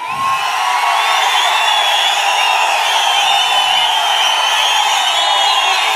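A large crowd at an Andhra Pradesh political rally roars and cheers with shrill whistles, a dense, steady wall of noise lasting the whole stretch at high volume.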